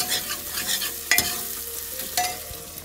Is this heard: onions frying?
yes